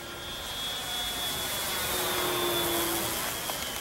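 An electric RC FW-190 warbird model plane flies past with a steady high whine and airy rush that stays fairly constant and mid-distance, no talk over it.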